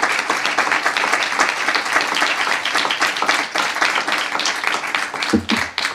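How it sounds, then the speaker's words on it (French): An audience applauds after a talk at a science discussion event, a crisp, lively burst of many hands clapping close by, strong and steady across the whole stretch, with a short voice near the end. "on peut vous applaudir, bien sûr"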